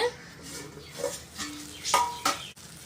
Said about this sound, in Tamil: கத்திரிக்காவை அடிக்கடி கிளறி விட்டுக்கோங்க